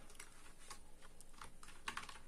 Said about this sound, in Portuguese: Vamos digitar o seguinte comando: sudo apt-get update.